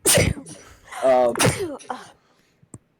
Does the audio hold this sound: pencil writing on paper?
no